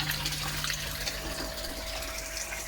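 Pond filter water splashes back into a shower tray that serves as a koi pond filter. The gushing flow is steady and close, with no voices.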